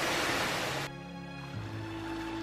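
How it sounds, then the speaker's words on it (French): Steady roaring rush of a waterfall on the Uzkaingo Erreka near Ascain in the Pyrénées-Atlantiques, loud and continuous, with a broad hiss that shifts slightly in tone partway through. "La cascade est juste derrière nous. C'est assez bruyant. On l'entend."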